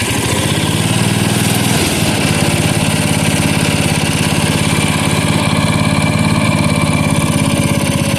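A 1977 Bolens G10 garden tractor engine catches and settles into a steady, loud idle, with a rapid, even low thumping running throughout.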